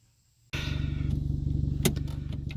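A turbocharged Mazda 3 engine starts up and idles with its exhaust not hooked up, a loud, raw, steady throbbing rumble with rapid pulses and a brief higher rattle partway through.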